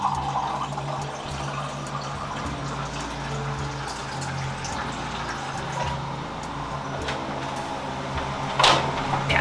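Filtered water from a refrigerator dispenser flows into a container in a home kitchen, a steady close trickle with light drips and a brief louder splash near the end.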